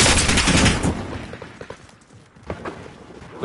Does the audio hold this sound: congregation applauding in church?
no